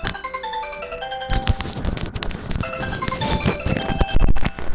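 A cell phone rings indoors with a bright, repeating electronic melody of stacked tones, loud and close, with clattering household noise mixed in toward the end.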